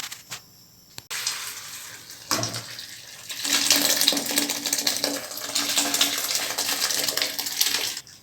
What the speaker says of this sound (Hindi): अब हम इसका पानी जो है वो स्ट्रेन कर लेंगे।